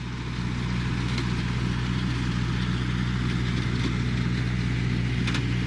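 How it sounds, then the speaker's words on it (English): A big blue tractor's engine running at a steady idle, a dense continuous low mechanical drone and chugging throb, loud and close, with no voices. "Roy climbed into the cab and started the engine"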